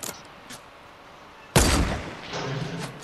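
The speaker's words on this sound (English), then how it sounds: "Bro, don't use your sniper." Sniper rifle shot in the Fortnite video game: one sharp, loud blast with a decaying tail, then a second burst of rumbling noise, preceded by quiet game ambience.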